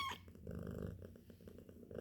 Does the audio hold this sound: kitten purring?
yes